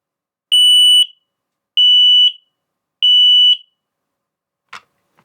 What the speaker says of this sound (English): Let's just try that alarm and see how loud it actually is.